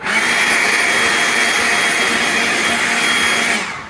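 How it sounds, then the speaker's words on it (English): A loud, steady, high-pitched whine of a leaf blower blowing dust off an old Canadian Westinghouse chassis runs continuously at close range for a few seconds, then cuts off abruptly at the end. "get your old handy dandy leaf blower here and blow off the loose stuff"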